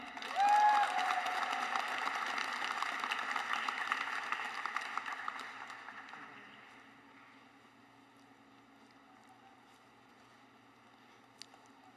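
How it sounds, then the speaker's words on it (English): Graduation audience applause for newly named graduates, a full burst of clapping lasting about six seconds, then fading to a quiet room hum with a lone sharp click near the end. "Let's give them another round of applause"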